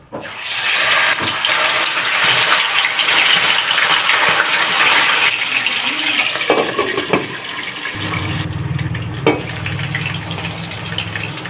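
Fish seasoned with salt and black pepper frying in hot oil for sarciadong isda, a loud, continuous sizzling hiss up close that shifts and settles toward a lower bubbling tone near the end.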